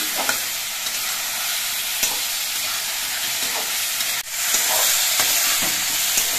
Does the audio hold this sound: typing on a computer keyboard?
no